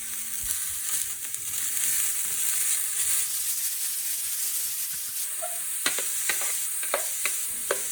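Rice noodles sizzle and hiss loudly in a hot pan for a crispy vegan stir fry, a steady bright frying crackle broken by several sharp scrapes and clacks of stirring near the end.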